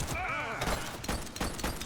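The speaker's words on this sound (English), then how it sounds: "He's shooting!" Gunfire in The Precinct video game, a burst of rapid shots and sharp cracks mixed with a groaning voice and other game effects.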